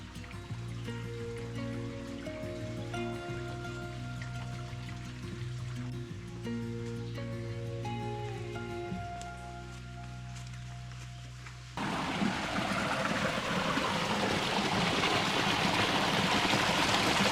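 Rushing water from a small creek waterfall on a jungle trail, a steady broadband roar that grows louder partway through, with music playing underneath at first.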